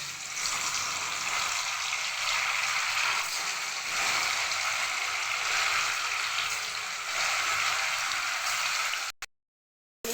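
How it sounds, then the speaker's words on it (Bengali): Paneer frying in salted oil gives off a steady, loud broadband sizzle that holds evenly for about nine seconds, then cuts off abruptly; no voices. "এবার পনির ভেজে নেব"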